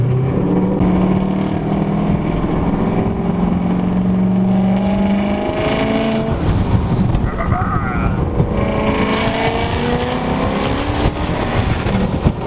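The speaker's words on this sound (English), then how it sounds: "The car is currently running a straight piped exhaust, turbo back." A loud, raspy 2007 turbocharged Mustang GT with turbo-back straight-piped exhaust rumbles and revs up close, the pitch rising and falling through a few throttle blips.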